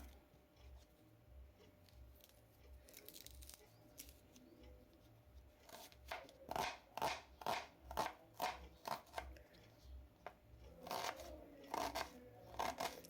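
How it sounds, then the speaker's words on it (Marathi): An onion being chopped on a board with a knife, a run of crisp evenly spaced cuts growing brisk, then a quicker burst of chops, close and alone. "कांदा कापून घेते मी"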